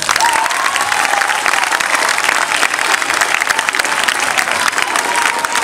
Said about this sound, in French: Applaudissez-le fort.